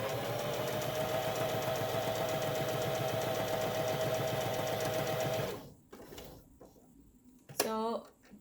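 A sewing machine stitches a pet collar in a fast, steady mechanical chatter for about five seconds, then stops, leaving a few quiet handling clicks and a brief voice.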